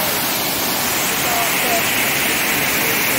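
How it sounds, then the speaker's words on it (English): Steady, loud broadband roar of several waterfalls cascading over a cliff into a river in Cuyahoga Valley National Park, continuous and close. "It's like so many different waterfalls just cascading over the cliff. And down to the river."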